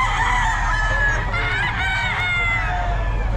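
Roosters crow and hens cluck over a low steady background hum, several birds calling at once, moderately close.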